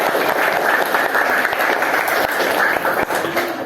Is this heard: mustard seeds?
no